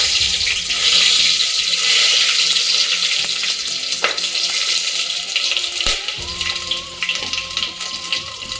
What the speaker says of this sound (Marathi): तेल गरम झाल्यानंतर आपण त्यात ते खडे मसाले घालणार आहोत।